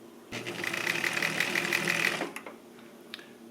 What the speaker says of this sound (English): so now the machine sews the pattern that's on this cam